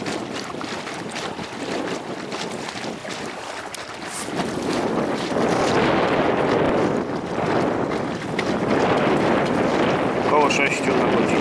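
Wind buffeting a small boat driven by a Haswing Osapian 36 lbs electric outboard as it heads upwind, a steady broadband rush that grows louder halfway through and stays strong, with no speech.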